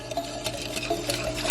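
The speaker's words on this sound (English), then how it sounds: "and we're gonna stir that bad boy," A spoon stirring green Jello mixture in a bowl, a close, quiet scraping with small irregular clicks and swishes repeating in a loose rhythm.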